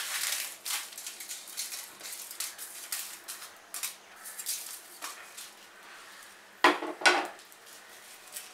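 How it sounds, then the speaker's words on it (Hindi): Dry chilies being roasted without oil in a pan for garlic chutney make faint, irregular clinks, scrapes and rattles, with a few sharper knocks toward the end. "मिर्ची भी ऐसे ही भूननी है,"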